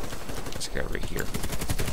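Rapid gunfire from a first-person shooter match of Warface on the Karkom map, a dense string of close, loud shots crackling over game noise, ending a cheeky headshot on an enemy.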